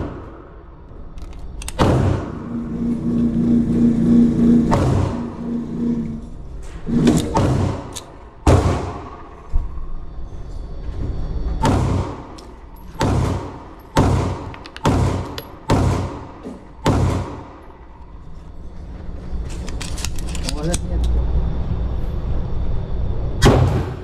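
A Sig Sauer P320 XComp Spectre pistol fires at a range, each shot a loud, sharp crack with a short echoing tail. The shots are spaced unevenly, some single and some in quick pairs and strings, about a dozen in all.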